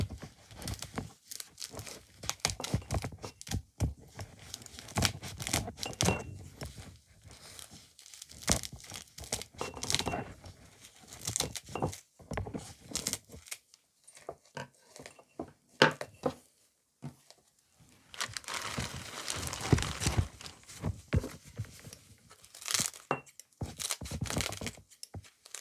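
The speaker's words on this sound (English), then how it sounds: "And you can hear them, they're crunchy" Dry mullein leaves being snipped and crushed, with repeated crackly, crinkling bursts close to the mic, irregular in rhythm and pausing briefly now and then.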